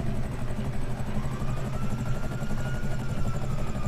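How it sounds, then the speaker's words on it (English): A helicopter in Grand Theft Auto 5 drones steadily with a loud, close, rhythmic rotor chop layered over a low engine hum, holding constant throughout without talk. "Just get back in my chopper."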